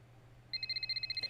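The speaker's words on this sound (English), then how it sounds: "Just as she finished her sentence, phone rings again." A phone in the video game Zenless Zone Zero rings with a bright electronic tone, pulsing in a quick, steady series of short beeps that start abruptly after a quiet moment and stay clear and close.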